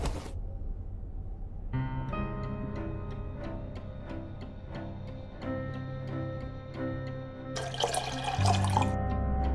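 Developer liquid poured out in the Black Mirror 2 video game: a steady splashing trickle with tinkling drips, ending in a brief louder gush.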